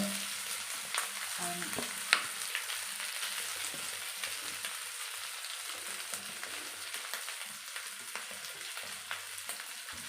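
Egg masala mixture being stirred in a frying pan makes a soft, steady sizzle with light scraping strokes, fairly faint and with no talking.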